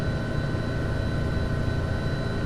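Simulated helicopter in the FSX flight game, a steady droning rotor and engine hum with a constant low throb, continuous and unchanging, no voices over it.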